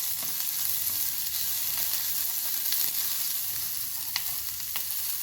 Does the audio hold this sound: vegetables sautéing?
yes